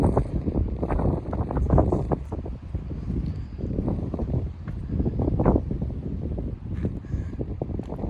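Gusty wind on an exposed mountain top buffets the microphone with a continuous low rumble that swells and dips over several seconds, with no voices.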